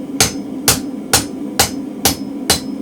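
Hammer striking a mild steel bar to bend it to 90 degrees, six sharp metallic blows close by at an even, unhurried rhythm with no talking.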